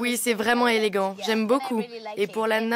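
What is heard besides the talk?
No distinct noise like a dog, phone or traffic.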